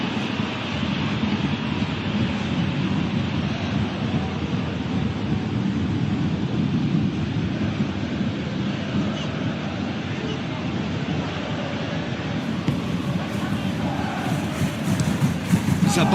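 Stadium crowd noise from a FIFA 26 match simulation of Bayern versus PSG, a broad steady roar that holds at constant loudness throughout and swells slightly near the end, with no commentary audible over it.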